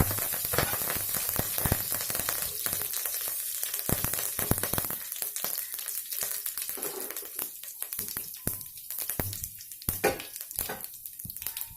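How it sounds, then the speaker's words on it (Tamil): Onions sauté in oil with mustard seeds, urad dal, cinnamon, cloves and curry leaves, giving a close, crackling sizzle. Frequent sharp scrapes and clatters from a stirring spoon against the pan punctuate it, with no talk. "வெங்காயம் கொஞ்சம் வதங்கிருச்சு."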